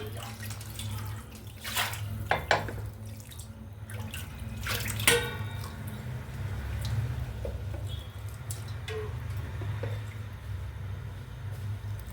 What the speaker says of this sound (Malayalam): ഇനി നമുക്ക് ഇതിലേക്ക് തിളപ്പിച്ച വെള്ളം ചേർക്കാം.